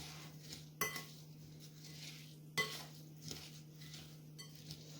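Candied orange and lemon peel is stirred into Eccles cake filling in a bowl: soft, quiet scraping and stirring, punctuated by a few sharp utensil clinks against the dish.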